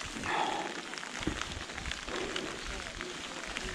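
Rain pours down on a mountain bike enduro race track during the Transcenduro 2019 event, a steady, dense broadband hiss that fills the scene continuously at close range with no clear breaks.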